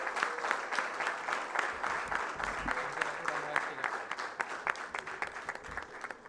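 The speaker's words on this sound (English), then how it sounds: "Give a huge round of applause to everyone." Audience applause at Agrovon 2024, an agricultural event, with steady dense clapping from a crowd throughout, moderately loud, with some background voices mixed in.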